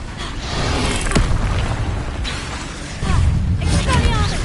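A Levioso spell effect from the Hogwarts Legacy video game, a loud, dense magical boom and whoosh that swells and surges again partway through, with a voice calling out over it.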